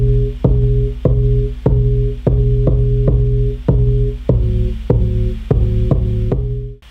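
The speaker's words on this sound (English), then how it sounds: "So this is what the 808 sounds like." A punchy 808 bass layered with an overdriven duplicate track, made in Logic Pro X, thumps in a steady repeating pattern of short tonal hits with a gritty edge, loud and without voices.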